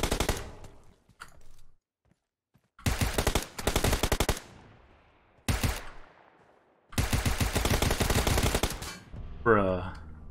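Bursts of automatic gunfire in the video game PUBG Lite: several loud rapid volleys separated by pauses, with a few single shots early and a sharp echoing tail at the end.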